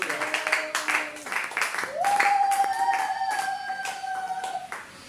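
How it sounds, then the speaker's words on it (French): A church congregation claps rhythmically and cheers for the Lord while sustained musical tones ring out beneath, the applause fairly close and lively before thinning out toward the end. "Est-ce que tu peux acclamer pour le Seigneur?"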